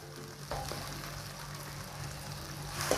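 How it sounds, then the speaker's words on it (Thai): Chinese sausage (kun chiang) frying in a pan, a steady soft sizzle with faint crackle running throughout at a low, even level, with no talking. "เราจะนำลงไปทอดให้สุกเลยนะคะ"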